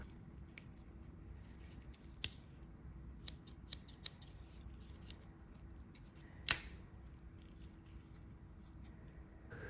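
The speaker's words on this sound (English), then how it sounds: "the scissors," Small Victorinox pocket knife scissors snipping several times at irregular intervals, quiet and close, with one louder sharp click partway through; otherwise near silence.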